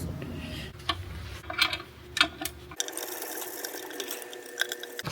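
A ratchet tightens bolts on the fluid strainer of a Suzuki Swift's JATCO CVT7 transmission, giving a few quick, close metallic clicks and ticks, followed by a steadier mechanical hiss.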